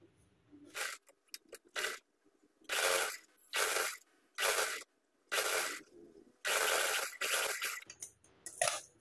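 A sewing machine stitches a lehenga belt at a half-inch margin, running in short bursts of rapid mechanical clatter separated by brief pauses, close and fairly loud.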